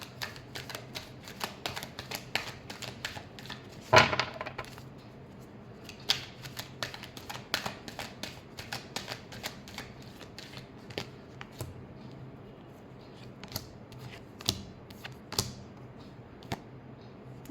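Tarot cards being shuffled by hand, producing a steady stream of quick papery clicks and riffles with a louder snap near the start, fairly close and soft, with no voice over it.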